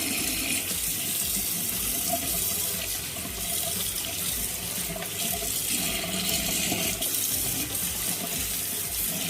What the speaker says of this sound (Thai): การล้างทำความสะอาดนะครับก็ใช้น้ำไหลผ่านนะครับ